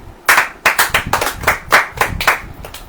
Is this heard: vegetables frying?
no